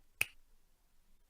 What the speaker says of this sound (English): I will keep snapping my fingers until we get out of that impasse